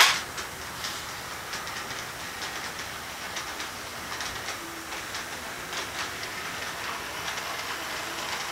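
A small train rolls steadily along a track with a soft, continuous rumble and faint repeated clicks, fairly quiet and without voices.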